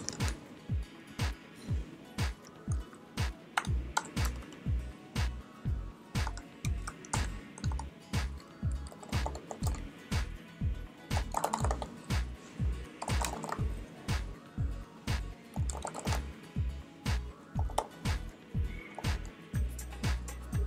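Steady rhythmic tapping on a computer keyboard, about one keystroke every half second, evenly paced and close throughout, with a soft hum underneath.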